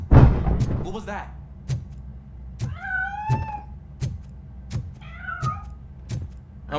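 In the video game RoboCop: Rogue City, a cat gives two drawn-out meows between sharp percussive clicks and knocks, with a brief voice at the start.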